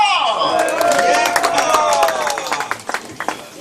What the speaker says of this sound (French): Je vous demande l'applaudir bien fort